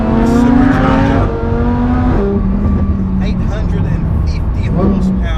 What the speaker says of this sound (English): So the exhaust opens up, we're in Corsa mode, and this thing is absolutely wicked.